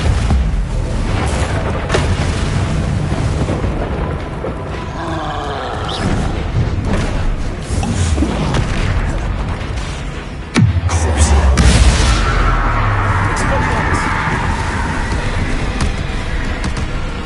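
Fiery Confringo and Incendio spell blasts from combat in Hogwarts Legacy, a long run of loud booms and crackling bursts with a sharp bang near the middle and heavy rumble throughout, with some voices mixed in.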